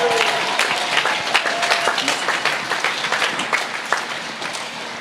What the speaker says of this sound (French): Sous vos applaudissements, je vous demande d'accueillir Monsieur Gilles Brial.